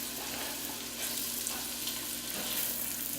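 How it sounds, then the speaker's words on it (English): Diced vegetables stirred in a gumbo pot, sizzling steadily and close up with soft scraping, alone without talk. "Gonna stir it in."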